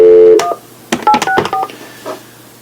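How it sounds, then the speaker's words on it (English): A phone keypad dialing a number sounds a dial tone followed by a quick series of loud, distinct DTMF beeps, each short and separated by brief gaps, heard alone with no talking. "let's call that phone number now"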